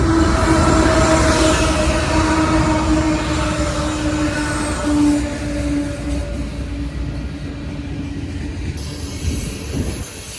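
A freight train rolls past close by, its loud, steady rumble carrying a sustained tonal hum and rail noise that slowly eases over the span, with no talk.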